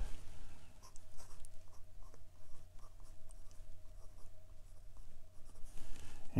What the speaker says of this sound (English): we're back with the writing portion of the review. This is Clairefontaine 90 GSM paper, and this is the E95S Pilot